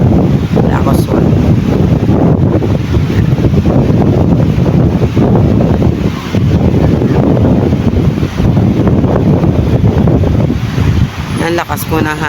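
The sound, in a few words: strong wind blowing at sea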